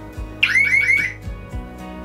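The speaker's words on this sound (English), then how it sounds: "then it sends an alarm in here and we know someone went overboard" A man overboard alarm aboard a Nordhavn 55 trawler yacht gives one brief warbling electronic tone, about half a second of rapidly repeating chirps, loud and close, followed by a few soft thumps.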